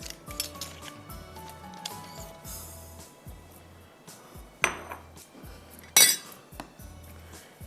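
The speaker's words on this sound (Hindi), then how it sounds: "इसको हम एक प्याले में मिक्स करेंगे और इसकी हम बनाएंगे सॉस" Metal utensil clinks and taps against a bowl while cocktail sauce of vinegar and Thai chili sauce is mixed, a steady run of light scraping strokes with a few louder, sharper clinks near the end.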